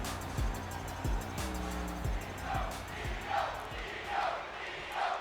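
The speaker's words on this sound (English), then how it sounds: "And you hear this crowd here tonight." A crowd roars throughout a WWE 2K23 wrestling match on Monday Night Raw, a sustained arena din that swells in waves, with impacts and rumbles from the ring mixed in.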